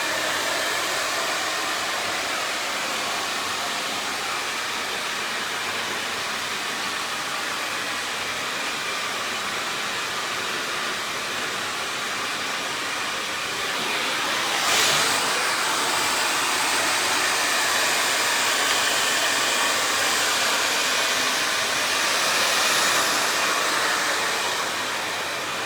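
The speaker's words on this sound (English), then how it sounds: "literally what I'm gonna do is just blast him dry pretty quickly" A hair dryer blasts a man's hair dry at a barber's, a close, loud, unbroken whooshing roar that holds steady for the whole stretch, shifting slightly midway as it moves, with no talking.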